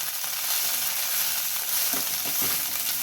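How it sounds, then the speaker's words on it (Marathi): Chopped dill greens fry in a hot pan for a Marathi-style dry mung-dal stir-fry, giving a steady close sizzle with a few soft scraping stirs near the end. "आता आपण यामध्ये भाजी घालून घेऊया"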